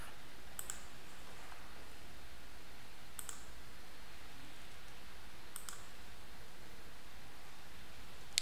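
Three sharp computer mouse clicks spaced a few seconds apart over a constant hiss of background noise, close and faint, with no voices.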